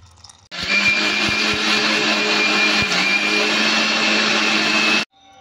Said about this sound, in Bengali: তো চালটাকে আমি একবারে ব্যাটার করেই আমি পিষে নেব, মিক্সারে পিষে নেব।